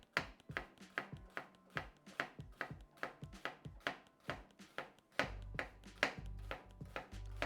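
A knife chops through a stacked shallot on a board with quick, even strokes, close and fairly quiet, then the cuts grow heavier and thumpier toward the end.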